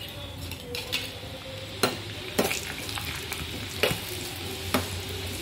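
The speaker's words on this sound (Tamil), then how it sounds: "நெய் காயட்டு, கொஞ்சமாக முந்திரி பருப்பு வதக்கிக்கலாம்." Cashews and raisins fry in hot ghee in a pan with a steady low sizzle, while a spoon stirs and scrapes at the metal every second or so, leaving short clicks over the sizzling.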